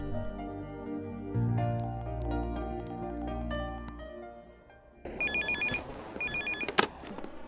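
Music plays, then an outgoing phone call rings back with a repeated electronic telephone ring tone in two clear, evenly spaced bursts.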